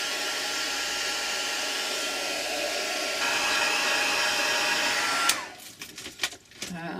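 A hair dryer blows steadily on a panty hose print stuck to a craft mat, a loud continuous whoosh that shifts slightly midway, then cuts off and spins down, leaving a few clatters and knocks.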